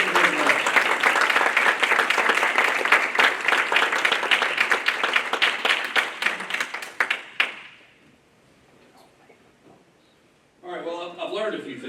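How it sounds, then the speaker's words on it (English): An audience at a college luncheon applauds students with sustained, loud clapping for about seven seconds, ending in a rhythmic unison beat before fading to quiet, followed by a voice speaking at the end. "Let's give one more round of applause to our great students."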